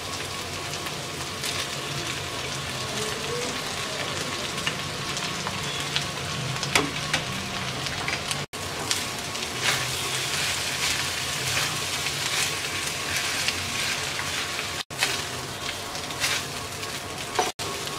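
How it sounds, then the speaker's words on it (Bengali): Rice fries in a pan for Bangladeshi-style chicken fried rice, a dense continuous sizzle and crackle with occasional stirring scrapes, loud and close throughout, with no talking. "এবার 2 মিনিটের মতো ভেজে নেব।"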